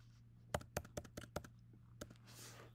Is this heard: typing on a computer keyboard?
yes